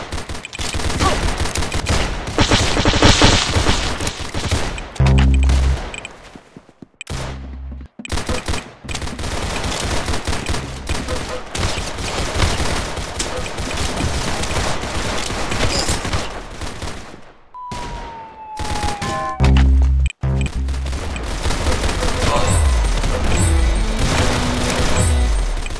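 Dense, loud gunfire in the Roblox shooter Arsenal, rapid bursts and near-continuous automatic fire with a few booms and brief drop-outs, filling the whole stretch with no speech.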